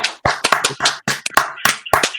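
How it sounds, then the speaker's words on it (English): Studio clapping track from a comedy podcast: a few sharp, close hand claps land in an uneven rhythm, about nine distinct hits over a couple of seconds. "We gotta put in a clapping track there."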